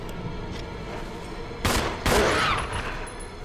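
Player's gun firing in the video game Resident Evil, two sharp loud shots about half a second apart over a low ambient game background, no talk.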